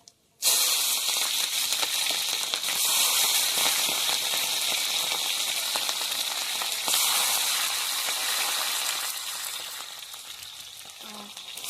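Tempering seeds and chillies hit hot oil with a sudden loud sizzle that holds as a dense, close, steady hiss before gradually easing toward the end.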